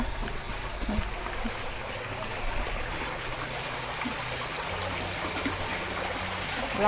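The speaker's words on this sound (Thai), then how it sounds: "พี่เขาจะทำน้ำตกไว้นะคะ" A small artificial waterfall in a house garden, water splashing and trickling steadily at moderate distance as a broad continuous rush with a low hum beneath, and no clear talk.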